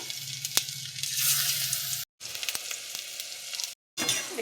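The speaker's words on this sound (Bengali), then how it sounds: "একই রকমভাবে বাকিগুলো ভেজে নেব।" Onion pakoras sizzle in hot oil, a dense close crackling hiss with occasional sharp pops, cut off twice by brief silences before resuming.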